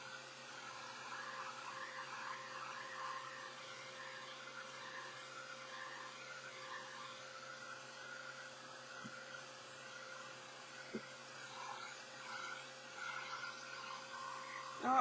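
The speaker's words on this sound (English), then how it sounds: "Apologize for the noise of the heat gun." A heat gun blows continuously while paper soaked in lemon juice is dried to age it. The steady whooshing hum carries on throughout with faint small clicks and no talk.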